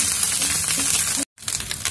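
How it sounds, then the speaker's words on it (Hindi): Crushed green chillies and ginger sizzle with onions in a pan, giving a bright, steady frying hiss up close. It cuts out briefly partway through, then resumes. "इसको थोड़ा सा हल्का सा भून लेते हैं।"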